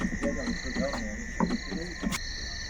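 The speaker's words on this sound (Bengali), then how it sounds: "পুকুরে চারপাশে ঝিঁঝি পোকার ডাক শোনা যাচ্ছে রাতের বেলা" Crickets shrill in steady high unbroken tones at night around a pond and freshly harvested rice fields in the Sundarbans, while deeper frog croaks pulse irregularly close by.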